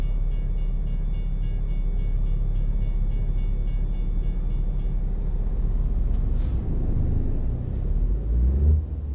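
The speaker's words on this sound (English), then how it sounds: "Nice long train for us." A long train rolls past in American Truck Simulator, a steady loud rumble of railcars with a rhythmic clatter at first and a brief brake hiss near the end.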